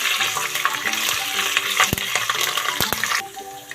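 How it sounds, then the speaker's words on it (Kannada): A cup of onions fries in ghee in a pan for restaurant-style pulao, giving a close, steady sizzle with spatula stirring and scraping and a few sharp metallic clinks, with no one talking. "ಒಂದು ಕಪ್ ಈರುಳ್ಳಿ ಹಾಕ್ತಾ ಇದ್ದೀನಿ ಬಿಸಿಲ ಲೈಟಾಗಿ ಫ್ರೈ ಆಗಬೇಕು"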